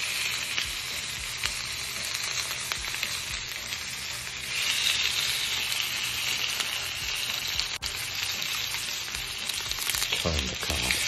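Miso butterfish cod sizzles and fries steadily in a hot pan, a dense continuous crackle with occasional stirring and a brief sharp tap, heard close up with no voices.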